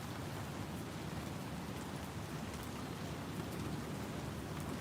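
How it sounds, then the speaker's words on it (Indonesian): Heavy rain pouring steadily in dark weather at a bale, a dense, even hiss that holds without a break, moderately loud and with no voices. "Ini hujan, gelap banget."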